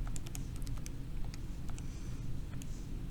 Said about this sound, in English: grabbing a calculator, typing the whole thing in